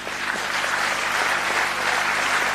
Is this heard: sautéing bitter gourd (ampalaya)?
no